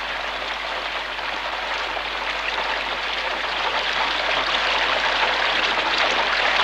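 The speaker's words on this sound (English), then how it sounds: "Rain, liquid sunshine of the Lake District they call it" Rain falls steadily in the Lake District, a broad even hiss that grows slightly louder toward the end, with no voices or other distinct sounds.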